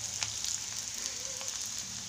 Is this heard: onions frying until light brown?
yes